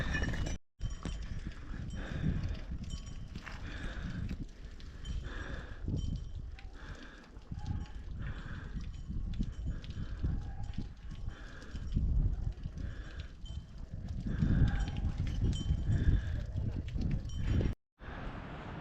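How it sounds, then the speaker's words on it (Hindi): Horses and pack animals gather at the horse stop on the Kedarnath trek, with steady hoof clip-clop and animal movement on the mountain path, a busy outdoor din lasting many seconds with little talk. "मैं पहुंच चुका हूं अभी घोड़ा पड़ाव में, जो केदारनाथ धाम का घोड़ा पड़ाव है, जहां पर घोड़े आके रुकते हैं।"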